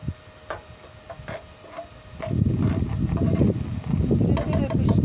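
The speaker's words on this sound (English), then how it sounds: "Give it a bit of a stir." A spoon scrapes and stirs buckwheat in a sizzling pan on a camper-van stove, with a soft frying hiss building up and scattered clinks. A person talks quietly nearby.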